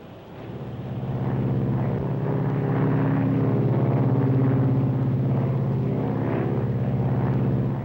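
A 1953 propeller airliner in flight gives a loud, steady low engine drone that swells slightly and holds throughout as the flaps are lowered, with no voices over it.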